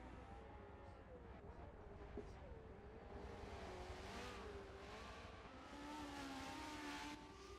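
Race car engine held at full throttle in a 1960s Grand Prix racing game at the Nürburgring Nordschleife, a steady loud drone with shifting pitch and occasional tire noise throughout.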